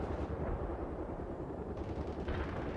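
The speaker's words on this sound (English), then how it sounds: "Incoming artillery." Artillery fire in the video game World in Conflict: dense, continuous rumbling booms and crackling blasts fill the whole stretch at steady loudness, with no talking.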